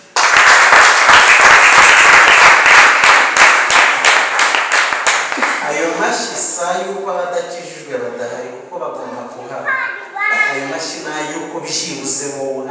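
Church congregation clapping in quick rhythmic unison for about five seconds, loud and close, then giving way to a preacher's voice and singing, with scattered claps continuing under it.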